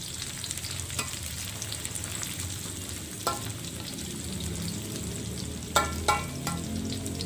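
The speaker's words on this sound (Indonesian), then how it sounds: "kembali saya aduk." Shallots, garlic, lemongrass and ginger sizzle steadily in hot oil, with a few scraping stirs of a utensil in the pan cutting through the constant frying hiss; no voices.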